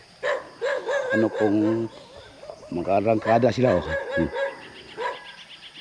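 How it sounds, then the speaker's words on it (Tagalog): Several dogs barking in bursts around a person outdoors, close and loud, with yips and whimpers mixed in while someone talks over them. "pinalibutan na ako ng aso"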